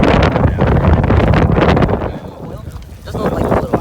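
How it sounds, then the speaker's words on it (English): Strong gusting wind buffets the microphone outdoors during a cookout, a loud continuous roar that swells and dips, with faint voices underneath. "Winds are probably gusting about 30, 35."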